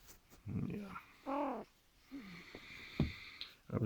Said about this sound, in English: I was just trying to catch you when you were snoring in your sleep, making those lovely little sounds.